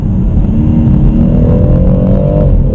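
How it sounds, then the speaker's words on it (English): A BMW M140i straight-six engine revs loudly through the exhaust, a deep rumbling drone whose pitch climbs and then eases off, close and continuous. "the sound from this engine, from the exhaust, I just absolutely love it"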